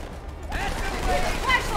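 Two SMGs fired at once in Halo 2 (Halo: MCC): after a brief quiet start, a dense rapid burst of gunfire rattles on under a talking voice.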